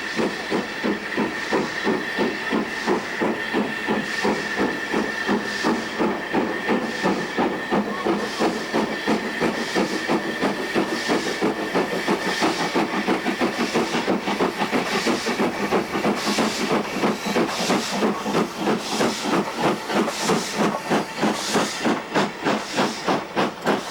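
A preserved steam train pulls into Damems station on the Keighley and Worth Valley Railway, its steady hiss of steam and rapid rhythmic chuffing loud and close throughout, with a faint whistle-like tone held above.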